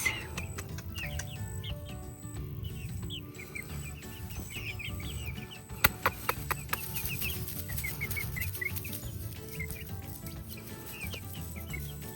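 Young chicks peep and chirp in quick, high repeated calls, close by and fairly soft, over a low steady outdoor hum with a few brief knocks partway through.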